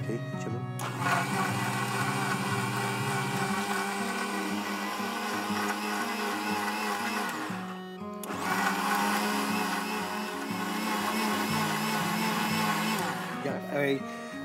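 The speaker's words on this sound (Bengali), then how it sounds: "এখন আমি এটাকে ব্লেন্ড করে নেব।" An electric blender whirs through a strawberry banana smoothie in a cooking show kitchen, running loud and steady for several seconds, stopping briefly, then starting up again for a second run.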